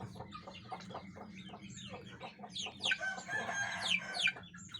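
Thai Phanat Trat Koi Ngon gamecock chickens cluck repeatedly in a steady rhythm, with several loud, close crows rising over the flock in the second half, amid a low background hum.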